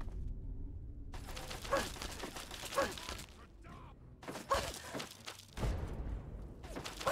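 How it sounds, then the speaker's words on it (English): Grenades blowing up in the video game Fallout 3: several loud, broadband blasts land a few seconds apart, each with a rumbling tail, over a steady background of game noise. "Let's try and throw some grenades."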